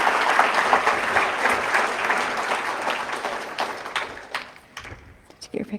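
An audience at a legislature event for Developmental Disabilities Day applauds parents supporting their students, loud dense clapping that gradually thins and tapers into scattered claps, with voices murmuring underneath.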